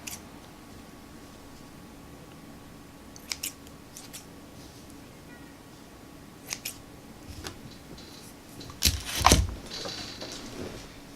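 Scissors snip excess cotton wick on a vape coil for a Gear RTA build: a few faint, sparse clicks first, then a sharp, close double snip near the end in a quiet room.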